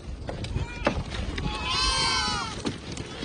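Goats on an island farm bleat in short calls, one longer wavering bleat in the middle, amid rustling and faint voices nearby.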